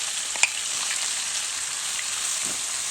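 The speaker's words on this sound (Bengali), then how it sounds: "সমস্ত মশলা, আদা, রসুন, পেঁয়াজ সবকিছু দিয়ে মাখিয়ে এখন মাংসটা বসিয়ে দেব" Spiced meat coated with ginger, garlic and onion fries steadily in hot oil in a pot, a continuous close sizzle with a single brief clack early on and no voices.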